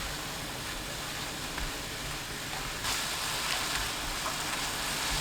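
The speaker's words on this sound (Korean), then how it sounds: "달군 팬에 냉동 대패 앞다리살 600g 넣고 센 불로 볶아줍니다" Frozen thin-sliced pork shoulder, 600 g, stir-frying over high heat in a preheated pan, giving a steady broad sizzle that swells louder partway through, close and continuous with no talking.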